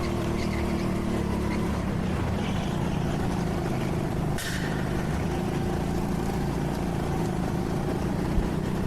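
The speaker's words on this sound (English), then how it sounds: "so listen to Goose's car" Racing go-kart engine at the TeamSport Leeds indoor karting track, a steady loud drone that holds throughout with a brief sharp pop midway.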